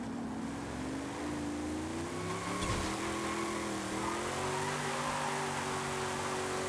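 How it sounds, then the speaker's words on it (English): A car in Forza Horizon 5 launches hard off the line with slight wheelspin. Its engine drones steadily and loudly, the pitch climbing gradually as it accelerates. "I've got like the tiniest bit of wheel spin as I'm flooring it"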